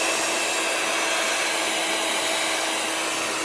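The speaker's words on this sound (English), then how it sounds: "So now we have to do the heat gun." A heat gun blows on alcohol ink, giving a loud, steady, close whoosh of forced air that holds unchanged throughout with no talking.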